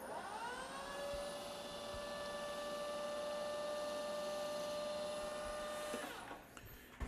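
A metal lathe turns 20 mm metal stock while a cutting tool works the diameter, giving a steady high-pitched whine with layered tonal hum that holds for about six seconds, then cuts off abruptly, leaving light clatter.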